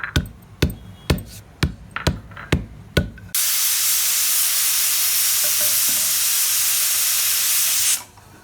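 Dried coconut pounded by hand in a kitchen while preparing farm chicken curry gravy: seven sharp, evenly spaced thuds over about three seconds, followed by a steady loud hiss that cuts off abruptly.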